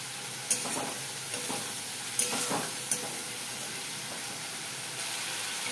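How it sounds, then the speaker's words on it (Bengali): Spice paste for a pointed gourd curry sautés in hot oil with a continuous soft sizzle, punctuated by a few brief scraping stirs of the pan. "মশলাটা থেকে যতক্ষণ না একটু তেল উঠে আসে। এটাকে খুব ভালো করে সাঁতলাতে হবে।"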